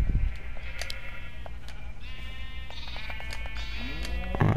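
Sheep bleat repeatedly in Minecraft, several overlapping calls spread across the stretch over a steady low background hum, with no voices.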